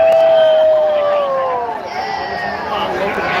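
A crowd cheering outdoors at a Walk With Israel march, a dense, loud wash of voices and shouts close by, with one voice standing out over the general babble.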